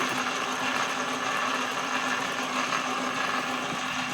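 A manual lathe cuts metal with thread cutting oil applied, giving a steady close grinding and whirring drone with a constant mechanical hum and no pauses.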